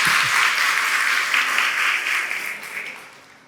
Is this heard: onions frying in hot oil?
no